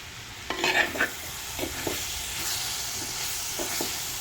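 Food is stirred and mixed in a pan, with several close scraping and clattering strokes of a spoon over a steady background sizzle.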